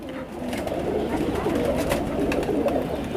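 Phulsara pigeons, a high-flyer breed kept in Allahabad, cooing close by in a steady low murmuring stream, with faint background noise.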